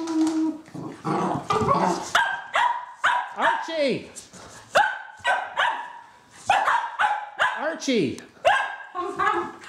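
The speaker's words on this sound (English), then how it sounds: "Too much barking." A dog barks and yips repeatedly in close, rapid bursts, some rising into whiny howls, while a person calls out over the noise.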